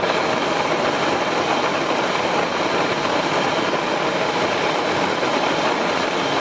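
An electric coffee grinder set to grind size 14 runs loudly and steadily on beans for a French press, a dense whirring grind that holds at the same level throughout with no talking.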